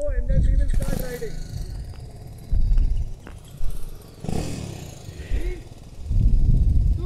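Small BMW GS310 motorcycles pull away at a start, their low engine rumble rising and falling in bursts over about seven seconds, with people talking over the riding.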